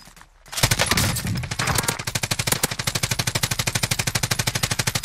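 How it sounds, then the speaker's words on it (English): Sustained automatic gunfire in the Call of Duty Warzone battle royale video game, a rapid even stream of loud close shots after a brief quiet start, continuing steadily throughout. "who are you firing at?"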